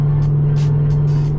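A Toyota GR86 running on E85 fuel cruises at low speed on a quick loop, its engine giving a steady, loud, close drone with a constant low hum and faint whooshes on top.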